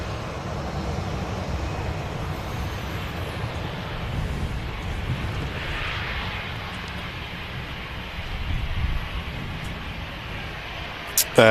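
A KLM Boeing 737-900 airliner at Manchester Airport produces a steady low engine rumble, fairly distant and continuous, with a slight swell midway and some quiet talk underneath.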